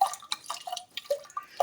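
Water poured over tamarind pulp in a bowl while making a sweet tamarind chutney for aloo samosas; close splashy drips and gurgles in short irregular bursts, no speech.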